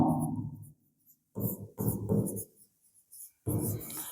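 A pen writes a definition down during a chemistry lecture, giving short scratchy strokes in separate bursts with quiet gaps between them.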